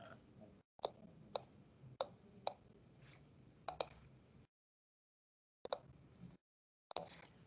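Sparse computer mouse clicks on a desktop running STAAD Pro structural software, single and double clicks scattered irregularly across several seconds with brief silent gaps, close and quiet.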